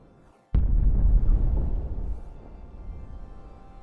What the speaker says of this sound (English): We need at least one ungodly huge bomb that serves no use